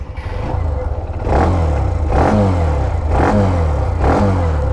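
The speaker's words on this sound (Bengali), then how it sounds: "এই সাইলেন্সার থেকে কেমন শব্দ আসে এটাও এখন আপনাদেরকে একটু শোনানোর জন্য ট্রাই করব স্টার্ট" A Hero Xtreme 125R motorcycle starts, then its 125 cc engine settles into a loud, close exhaust note that swells in a few rhythmic pulses of throttle.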